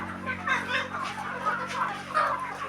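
Chickens on a village poultry farm in Khanapur, Kalaburagi district, cluck in a busy, overlapping chorus over a steady low hum, with repeated bursts close at hand.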